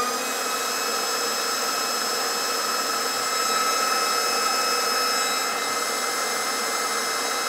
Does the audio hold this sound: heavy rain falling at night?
no